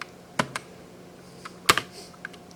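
Scattered computer keyboard keys are pressed while redefining controls for Chuckie Egg on a ZX Spectrum, a few sharp, close clicks with irregular gaps between them.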